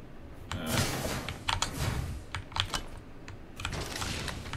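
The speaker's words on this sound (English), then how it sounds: "I do play on a mechanical keyboard and these keys are loud with my microphone right there" Loud clicking keystrokes on a mechanical keyboard with the microphone close by, typed in quick bursts and short pauses while playing Apex Legends, with game sounds faintly underneath.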